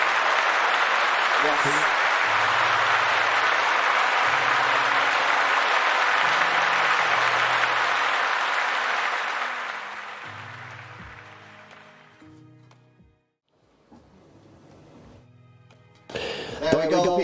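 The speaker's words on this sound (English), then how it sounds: "let's get a round of applause in the audience" An audience at Manchester City's end-of-season awards applauds Erling Haaland as player of the season: loud, sustained clapping over soft music that fades out toward the end, with a voice briefly heard.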